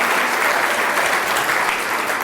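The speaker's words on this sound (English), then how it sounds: "Give him one more round of applause, ladies and gentlemen." A dense, steady wash of audience applause fills a hall at the South African Professional Services Awards 2016 ceremony, loud and continuous throughout with no voices standing out.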